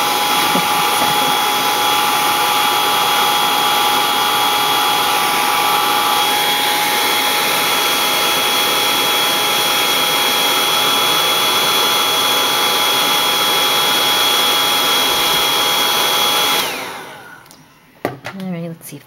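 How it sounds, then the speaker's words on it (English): Handheld blow dryer running steadily on wet paint for a road painting, a continuous loud whirring hum with a faint whine that cuts off sharply near the end, followed by quiet handling noise. "I can't get rid of this little blow dryers"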